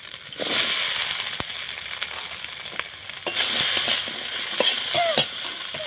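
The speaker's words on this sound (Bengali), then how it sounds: "আমার মশলা ভাজা হয়ে গেছে" Ground spice paste with onion sizzles steadily in a hot pan for a village-style raw jackfruit and prawn curry, with crackling pops and scraping stir clicks throughout, no voices.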